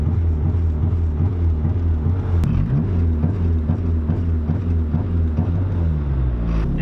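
A Megasquirt-tuned car engine with its clutch pushed in is revved against a lowered rev limiter, giving a loud, steady, pulsing rumble with rapid stuttering beats throughout and no voices.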